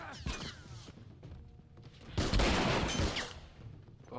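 Shotgun blasts from the video game The Last Of Us Remastered come as sharp booming reports amid faint game ambience, moderately loud within a short, busy stretch of action.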